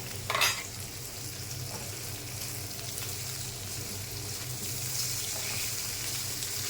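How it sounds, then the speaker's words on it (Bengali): Potatoes, onions, prawns and ginger fry in a pan with a steady close sizzle, opening with a brief louder clatter of stirring. "এই আলু পেঁয়াজের সাথে একটু ভেজে নিতে হবে।"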